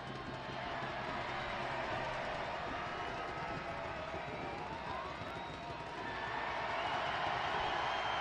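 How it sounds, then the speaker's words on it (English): Stadium crowd noise fills the ground at an Oakland Roots SC versus Charleston Battery soccer match, a steady loud roar with a whistle-like tone rising near the end. "Cedeno waving to the crowd to raise the decibel level."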